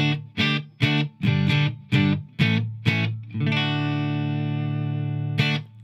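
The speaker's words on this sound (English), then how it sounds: "All right, that's a good clean tone for me." Clean electric guitar through a Line 6 Floor Pod, amp reverb off, plays several separate plucked chords, then lets one ring out steadily before a final strum, bright and close with no distortion.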